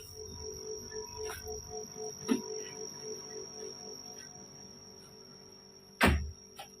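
An old, aging air conditioner unit hums with a steady high, cricket-like whine and faint tonal drone, broken by a few brief clicks and a sharper knock near the end.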